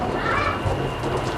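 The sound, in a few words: birds in a backyard mini aviary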